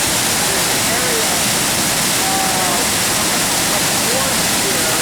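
Creek water carrying sand tumbles over a rock in a steady, loud, broadband rush, unbroken and close, with no other sounds standing out.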